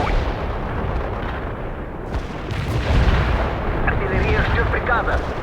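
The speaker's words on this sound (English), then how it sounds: "Launching a barrage." Artillery barrage firing in the World in Conflict war game, a dense, continuous roar of overlapping blasts and rumbling impacts, loud and sustained without a break.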